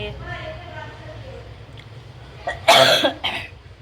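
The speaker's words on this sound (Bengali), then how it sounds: "আমি না জোরে কথাই বলতে পারছি না, বললেই কাশি হচ্ছে।" A person with a cough from straining their voice lets out a short, harsh burst of close coughing near the end, following a stretch of quiet room noise.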